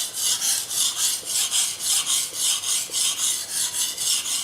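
A Japanese nakiri knife rasps back and forth over a whetstone in a fast, even rhythm of about fourteen scraping strokes, close and clear, with no voice over them.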